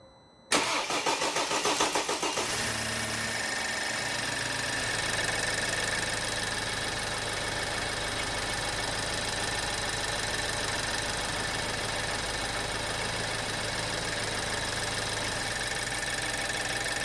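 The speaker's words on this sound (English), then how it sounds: "so the engine's now running" A BMW car engine cranks briefly, catches and starts, then settles into a steady idle that runs on without a break.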